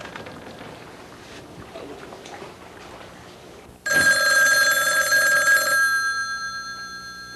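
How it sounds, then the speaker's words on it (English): Telephone ringing in a 1985 film scene near a swimming pool, starting abruptly loud after a quiet outdoor stretch and holding a bright sustained electronic ring before fading. "Oh, there's the phone."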